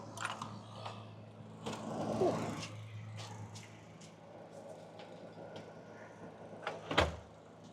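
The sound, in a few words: root cellar door being opened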